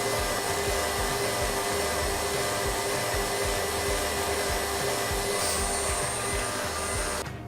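Electric mixer whipping egg whites to soft peaks for a vanilla, rose and strawberry pavlova, a loud continuous whirring drone with a rapid pulsing beat underneath, cutting off abruptly at the end.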